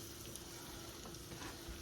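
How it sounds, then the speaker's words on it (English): Faint, steady sizzling of potatoes and onions frying in bacon grease in a pan, a soft continuous crackle with no talking. "we're frying this until our onions gets to be translucent"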